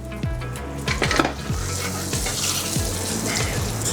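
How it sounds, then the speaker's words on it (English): Bacon crisping in a pan with pecans added, steady close sizzling and crackling of fat with a few stirring scrapes, no talk. "Whilst that bacon's just getting ultra crispy, I'm going to throw in those pecans into it as well."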